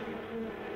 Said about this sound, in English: Nothing's more annoying than the sound of bees.